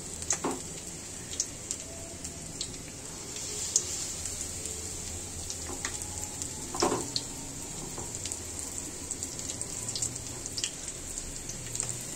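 Leaf pakoda fries in oil in a wide, shallow pan, giving a faint continuous sizzle broken by scattered small pops and clicks over several seconds, heard alone.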